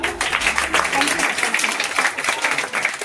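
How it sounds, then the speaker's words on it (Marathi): Audience applause for the school madam at a free health camp with Diwali snack and clothes distribution: a dense, steady clatter of many hands, close and continuous for about three seconds, with some voices mixed in. "एका घरासाठी आणि मॅडमसाठी टाळ्या वाजवा"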